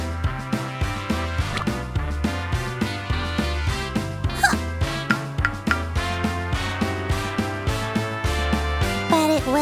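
A cartoon dog yips and barks in quick repeated bursts over bouncy, steady background music, the barks short and bright and spaced in a rhythmic pattern throughout.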